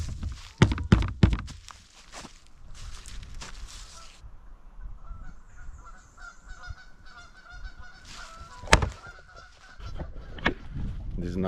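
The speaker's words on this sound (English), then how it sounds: "With the geese in the back." Geese honk in repeated bursts close by at a secluded lakeside campsite in Algonquin Park in spring, with footsteps and a few dull thunks between the calls.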